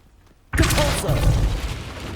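A burst of fiery magic erupts in Hogwarts Legacy as the Incendio spell is cast, breaking from near silence into a loud, roaring whoosh with a booming low end that sustains and slowly fades.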